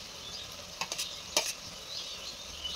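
Garlic paste fries in a pan for chicken curry over a clay stove, giving a steady moderate sizzle with a few sharp scraping clicks of a spoon against the pan; no one speaks.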